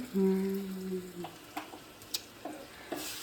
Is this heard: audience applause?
no